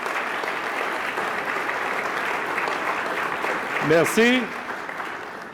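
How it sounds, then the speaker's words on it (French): A banquet crowd applauds honoured guests at an evening dinner, a thick, continuous wash of clapping that swells slightly near the end, when a single voice speaks briefly over it. "Donc, applaudissons nos distingués invités."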